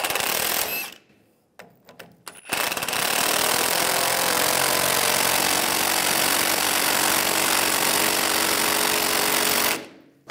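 A power tool runs the nut down on a front upper shock mount of a 2007–2013 Chevrolet Silverado 1500, with a few short bursts and clicks followed by a long, loud, continuous whir that cuts off abruptly.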